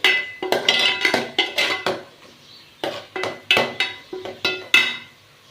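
Spoon scraping and clanking in a pan while paneer fried rice is sautéed with cumin, garam masala and coriander powders, a run of loud close metallic strokes, a short pause, then another rhythmic burst of clinks.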